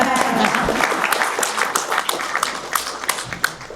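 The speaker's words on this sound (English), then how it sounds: "And yes, you can clap on that if you want." Applause from a breakfast audience at a legislative update event, a blur of many hands clapping at moderate loudness that thins into a few scattered louder claps, with some murmuring under it.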